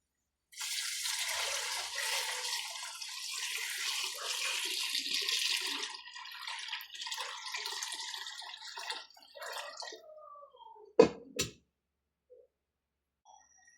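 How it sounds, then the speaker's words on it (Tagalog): Bone broth pours from a container into a pot, a close bright liquid splash lasting several seconds that tapers into trickles and drips, followed by two sharp clanks. "Tapos lagyan natin ng sabaw."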